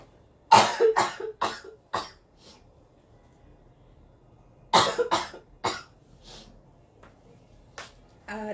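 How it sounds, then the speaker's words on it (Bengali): A woman in an air-conditioned room coughs in two close bursts of several harsh coughs each, with a quiet pause between them and a faint breath at the end. "আউট অফ নো হোয়ার আমার কাশি চলে আসছে"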